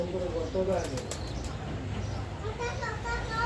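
Pigeons return to their coop after feeding, with a few soft bursts of wing flapping and faint shuffling near the middle, mostly under continuous nearby talking.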